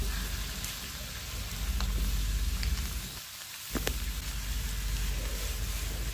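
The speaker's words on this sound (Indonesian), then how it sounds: "Setelahnya kita masukkan jamur tiramnya. Oke, ini kita aduk lagi ya." Oyster mushrooms sizzle steadily in a hot pan while being stirred, a continuous close frying hiss with a few faint scraping ticks and a brief dip in the sizzle.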